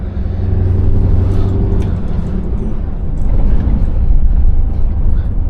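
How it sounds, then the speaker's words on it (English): A truck passes on a road in Wiltshire, its deep rumble swelling over a steady, loud engine drone close by, with no talk. "Now there's another truck coming"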